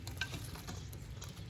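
Fish frying in a pan gives a steady, close crackle and sizzle of hot oil, alone with no talk.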